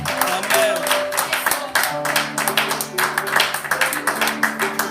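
Church congregation applauding during a French-language sermon, dense continuous clapping with sharp taps throughout, loud and close, with sustained tones and faint voices underneath.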